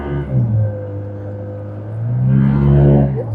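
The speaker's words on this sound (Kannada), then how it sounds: "ಬೋಟ್ ಬಂದಿರೋದಕ್ಕೆ ಅನ್ಸುತ್ತೆ." A tourist boat motor on a mangrove forest waterway near Pondicherry drones steadily and close, swelling louder toward the end as it approaches, with no voices over it.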